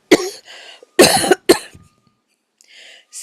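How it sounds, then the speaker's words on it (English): Several sharp, close coughs from people with weather-related colds, three loud bursts in quick succession followed by fainter throat clearing. "Pretty much all of us are coughing up a storm over here because of the weather."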